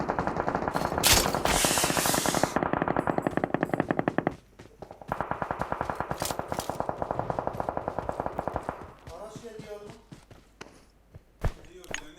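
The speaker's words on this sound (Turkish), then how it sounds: "bende silah sesleri tek geliyor" Rapid bursts of automatic gunfire in PUBG Mobile rattle in long sustained streams, pausing briefly, with quieter scattered shots and clicks toward the end.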